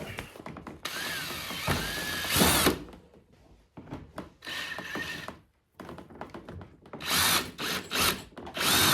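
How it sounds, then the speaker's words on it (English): A power drill drives screws into the front lip of a Nissan 350Z, with loud whirring bursts of varying length separated by short pauses and clunks, close and without talk. "we're just gonna screw in here or drill and put a screw in there"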